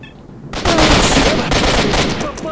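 Loud automatic gunfire in S.T.A.L.K.E.R. Shadow of Chernobyl erupts after a brief quiet lead-in, a dense sustained burst of shots with no pause.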